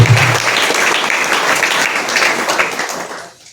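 An audience at a law awareness seminar in a government junior college breaks into loud, dense applause. It holds steady for a few seconds, then fades away quickly.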